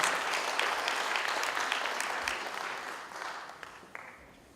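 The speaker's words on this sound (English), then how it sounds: "A round of applause for her." A conference audience applauds a guest speaker invited to the stage, the clapping fairly soft and distant in the hall, gradually thinning and fading out over several seconds.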